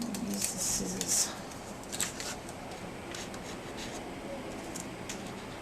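Scissor handles rubbed and pressed along a crease in box card, in place of a bone folder, give soft scraping strokes that are loudest in the first second and a bit, then fade to faint rubbing.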